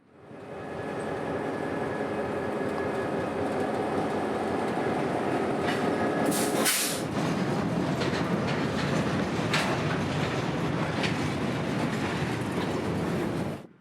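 A CSX freight train rolls past loudly and steadily after dusk in Tampa, with rhythmic wheel clatter and a brief burst of high metallic squeal partway through.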